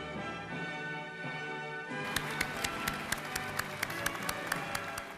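Applause at the 2003 installation of Bishop Nicholas DiMarzio as diocesan leader, heard as a steady crowd roar joined after a moment by sharp, regular claps that stand out clearly through the rest.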